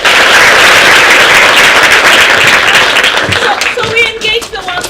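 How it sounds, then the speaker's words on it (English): An audience of students at a girls' secondary school gives a big round of applause, loud dense clapping that fades out toward the end as voices and other sounds come through. "Big clap."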